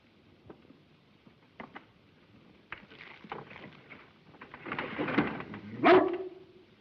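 Dog in a 1935 film scene from Call of the Wild, heard through a few scattered yips and whines that build to a louder bark-like cry near the end over faint background noise.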